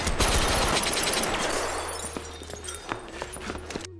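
Movie gunfire, with a dense burst of rapid automatic shots and breaking debris that thins into scattered cracks and echoes, loud at first and fading under a low drone before cutting off.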